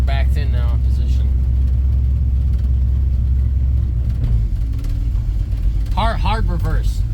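A 1967 Mercury Cougar's engine rumbles low and steady while the car is backed into position, with a person talking over the idle near the start and end.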